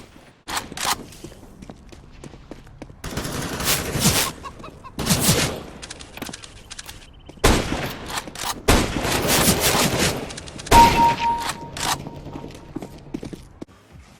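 Gunfire in Counter-Strike: Global Offensive running on an AMD A10-4600M laptop at low settings: repeated sharp shot bursts and rattling volleys separated by short gaps, loud and close, with no talking.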